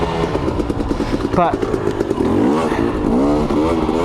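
A 2021 KTM 250 XC dirt bike engine runs loud and close, its pitch rising and falling through several revs while someone speaks briefly over it.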